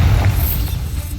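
A Bombarda spell explosion in the video game Hogwarts Legacy gives a deep, rumbling boom that stays loud across the brief moment, heavy in the low end.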